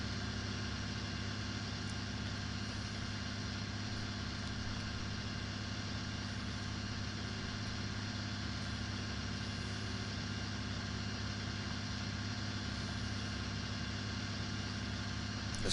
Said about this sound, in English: It's nice running this tractor at nighttime.